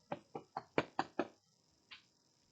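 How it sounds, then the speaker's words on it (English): Six quick, crisp knocks on a door in an even rhythm, then a short pause and one final softer knock, all close and clear in a quiet room. "Harry knocked on Hagrid's door"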